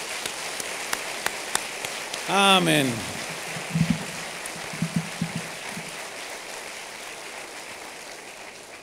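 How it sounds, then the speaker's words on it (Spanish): A church congregation applauds in a steady, hissing wash of many hands. One voice speaks briefly early on, and the clapping stays fairly even to the end. "Dale un aplauso al Señor."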